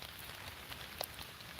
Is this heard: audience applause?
no